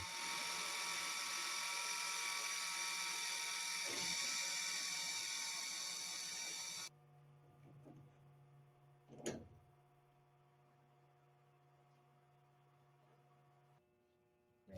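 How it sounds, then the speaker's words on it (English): A high-pitched power drill whines steadily while boring the rear cleco hole through an aircraft fuselage cowling, then stops; a few faint clicks and a brief sharp clatter follow in a quieter stretch. "Hold the upper cowling level and drill the rear clico hole."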